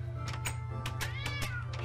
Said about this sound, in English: I'm sorry if you guys can hear my cat in the background.